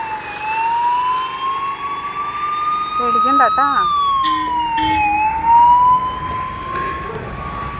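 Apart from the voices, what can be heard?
ambulance siren passing by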